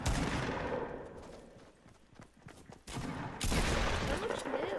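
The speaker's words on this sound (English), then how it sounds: "It's a pump shotgun." Shotgun fire in the Fortnite video game rings out in loud, sharp blasts, with a brief lull mid-stretch before another heavy burst of gunfire.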